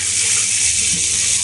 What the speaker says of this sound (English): I've just got another baking tray here and I'll put a little bit of water in there.